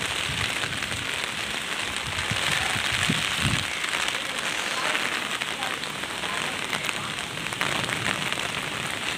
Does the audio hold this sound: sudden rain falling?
yes